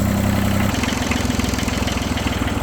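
A turbocharged Kubota B7100 tractor's diesel engine idles cold while warming up, a steady, low, even chugging rhythm, close and continuous throughout.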